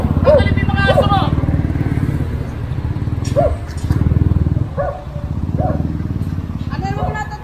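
A dog barks several times in short, sharp bursts, loud and close, over a steady motor drone, while people argue nearby in Tagalog about dogs kept at a stall.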